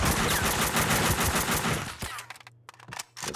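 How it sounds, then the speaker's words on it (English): Rapid automatic gunfire from the video game Max Payne 2 rattles loud and dense for about two seconds, then breaks into a few scattered shots with short gaps between them. "can you stop shooting me for a second?"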